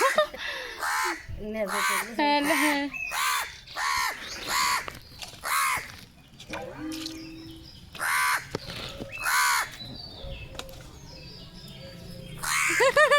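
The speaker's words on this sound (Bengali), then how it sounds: "এই যে কাক আর বিড়াল দেখো সব সময় ডাকে" Crows caw repeatedly in short harsh bursts, mixed in with people talking nearby.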